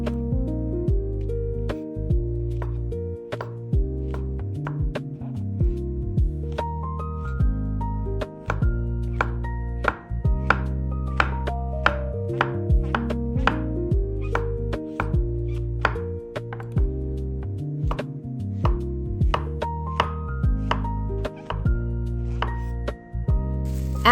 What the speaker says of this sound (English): Now slice up some fresh white mushrooms.